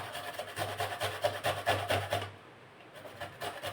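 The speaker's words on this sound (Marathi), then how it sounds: "बारीक असा किसून घेत आहे मी तुम्ही जाड्या किसणीने देखील किसून घेऊ शकता" Amla (Indian gooseberry) is grated finely on a fine grater, giving quick rhythmic rasping strokes close by at low volume before the scraping stops.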